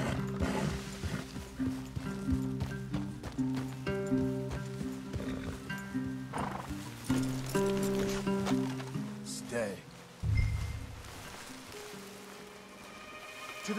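Horses walking and neighing in the video game Red Dead Redemption 2, hooves clopping at a steady pace beneath game music and people talking.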